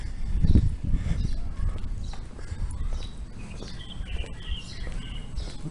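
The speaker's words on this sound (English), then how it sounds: "Lots of birds." Birds chirp and tweet along a quiet residential street on Cijin Island, Kaohsiung, with scattered short calls at moderate distance over a low rumble of outdoor ambience and footsteps.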